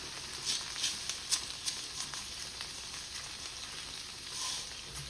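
Shallots sauté with salt in a pan for restaurant-style sambar: a steady close sizzle broken by a few sharp stirring taps and crackles.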